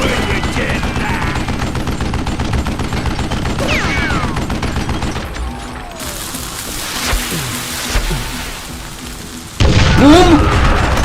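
Rapid video-game gunfire in a Wild West cowboy shootout, with bursts of shots and pops running continuously under dense game noise, then a sharper loud burst near the end.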